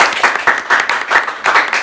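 Bursts of clapping and applause from a small group, rising and falling in short waves, fairly close and with no talking.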